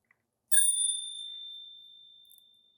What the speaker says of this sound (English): Very nice bell.